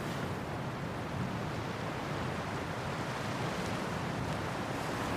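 Sea waves washing onto a beach make a steady, dense rushing roar that never breaks into distinct crashes, mixed with wind buffeting the microphone.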